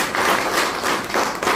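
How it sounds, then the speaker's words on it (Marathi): Broadband clapping from an audience at a financial education discussion with police, steady and dense across the whole stretch with slight surges, no talk over it. "यांच्यासाठी आपण जोरदार टाळ्या देऊया."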